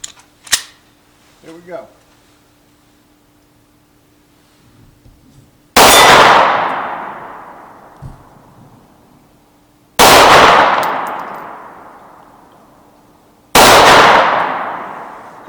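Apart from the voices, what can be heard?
FN 509 9mm striker-fired pistol shots hitting steel targets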